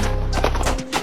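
Horse hooves clip-clopping in a western gunfighter video game, a steady fast rhythm that runs continuously through the short moment, fairly loud and close, with a faint whinny-like tone near the end.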